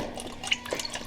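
Liquid splashing and dripping in a pan while beef jerky cooks, a few light, close splatters and drips over a soft background hiss.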